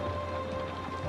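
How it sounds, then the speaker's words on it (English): Rain patters steadily across garden stones beside a villa in Pompeii, a soft, even, continuous hiss with no distinct drops standing out. "Outside, the rain continues its patient performance across the garden stones"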